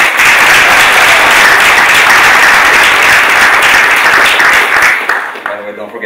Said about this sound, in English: can we get a round of applause for everyone who helped plan this event?